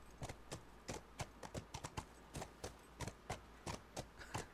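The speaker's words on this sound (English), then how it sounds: "I love the sound of the horse galloping." A horse in The Last of Us video game clip-clops at a steady pace, with irregular hoofbeats, faint and without talk.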